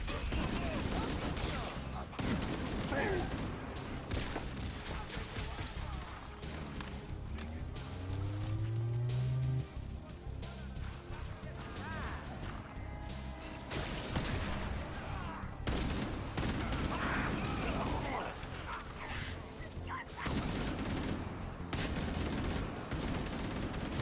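Gunfire in the Halo Campaign Evolved video game on Xbox Series X: repeated bursts of shots and explosive fire, loud and close, mixed with game music, vehicle rumble and voices calling out during combat.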